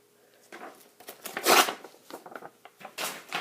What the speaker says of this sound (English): crumple it up a little bit, and lay it on here